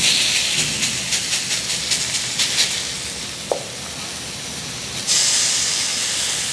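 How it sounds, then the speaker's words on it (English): Batter sizzles in hot cast iron pans, a steady close hiss with small crackling bursts and a fresh surge of frying noise near the end. "the sizzle to the cooler pan sounds to me better"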